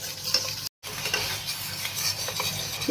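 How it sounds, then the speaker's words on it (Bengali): A spoon scrapes and swirls steadily through sauce in a hot pan as it comes up to a boil, with a soft sizzle beneath. The sound cuts out for a split second near the start. "অনবরত নেড়ে চেড়ে জাস্ট এটাকে আমরা একটা বলক তুলে নেব"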